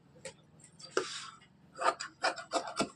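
Scissors cut through blouse sleeve fabric in a tailoring shop, making close, soft rasping snips and rubs, an irregular run of about seven strokes with brief quiet gaps.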